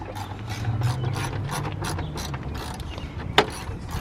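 A hand ratchet clicks in quick repeated strokes while bolts are tightened on the exhaust of a Nissan 350Z, a dense close rattling pattern followed by a sharp metallic knock near the end.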